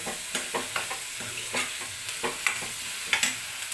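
Sliced onions fry with salt in a pan for an egg curry, giving a close, steady sizzle broken by repeated scraping stir strokes every half second or so, with no voice.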